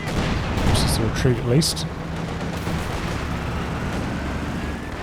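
Game battle sound from Company of Heroes 2 with rapid M1919 machine-gun bursts and distant artillery rumbling under a commentator's voice, in a 2v2 match.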